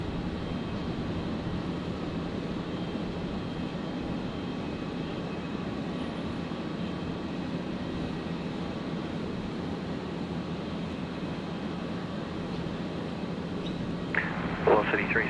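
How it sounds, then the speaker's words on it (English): A Life Flight Challenger jet departs Brisbane Airport, its engines a steady, broad roar held evenly throughout, with a short brighter burst near the end and talk faintly present beneath. "So the Life Flight Challenger looks to be making its way out of"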